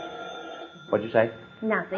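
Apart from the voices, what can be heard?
telephone bell ringing, radio drama sound effect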